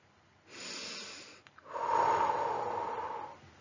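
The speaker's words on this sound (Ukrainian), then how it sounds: "вдихни повітря через ніс, а видихни через рот склавши губи трубочкою" A child's speech warm-up exercise: a nasal inhale followed by a longer, louder breath blown out through pursed lips, close and clear, with no talking.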